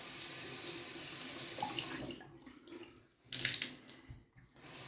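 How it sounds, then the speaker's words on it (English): Tap water runs steadily into a sink as a shaving brush is rinsed under it, the flow breaking up and splashing unevenly partway through, then returning to a steady stream. "I'm just rinsing out my brush real quick."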